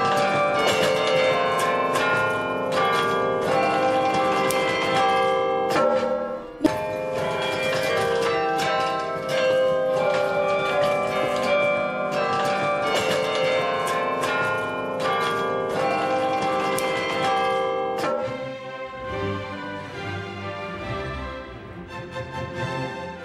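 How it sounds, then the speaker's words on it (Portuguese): The 47-bell carillon in the 83-metre Belfort tower of Bruges plays a steady mechanical melody, many bright overlapping bell tones ringing continuously and fairly loud before fading near the end. "A torre de 83 metros de altura tem um conjunto de 47 sinos, tocados por um mecanismo especial."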